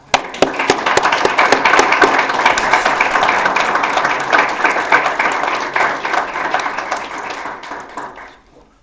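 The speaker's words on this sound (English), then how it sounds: "So, round of applause." A room full of people giving a round of applause at a school board meeting, dense steady clapping sustained for several seconds, loud and close, then tapering off sharply at the end.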